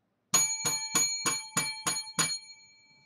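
A bell rings seven times in an even rhythm, each bright metallic strike ringing out briefly before the next, with the final tone fading into silence.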